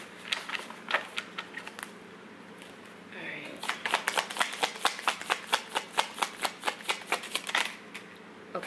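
A deck of tarot cards being riffled and shuffled up close, with rapid papery flutters, a brief pause, then a long run of evenly spaced crisp card slaps.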